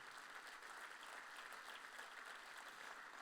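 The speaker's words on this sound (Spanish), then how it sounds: "Dale ese aplauso a él" Steady applause from a church congregation during a sermon, even continuous clapping heard at a distance, fairly faint throughout.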